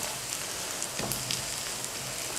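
A besan paratha cooks in oil on a pan over a low flame, giving a soft, steady sizzle and hiss close by with no talking.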